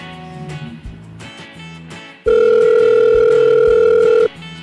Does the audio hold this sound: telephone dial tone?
yes